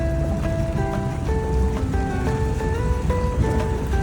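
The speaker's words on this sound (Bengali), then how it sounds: "আমরা বোটে উঠছি" A boat out on the sea off White Beach, Boracay, gives a steady, fairly loud wash of engine and water noise with a few tonal hums running through it for the whole stretch.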